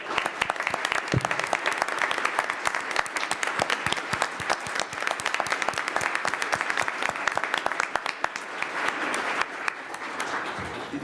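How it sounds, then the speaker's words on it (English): A room of attendees at a school board meeting gives a long round of steady applause, dense and even, lasting about eleven seconds with no voices on top. "Please join me in giving them one more round of applause."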